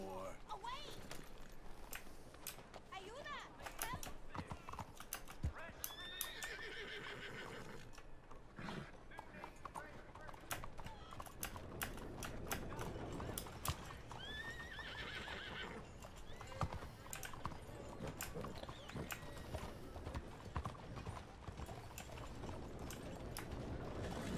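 A horse in the video game Red Dead Redemption 2 gallops with rapid, steady hoofbeats throughout and gives two loud whinnies, with the game's background sound running beneath.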